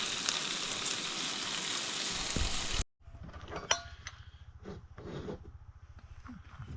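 Eggs and bacon frying in a pan for breakfast on an overnight trip out of the city: a loud, steady sizzle for about three seconds, then an abrupt cut to a quieter crackle with scattered clinks and clatter.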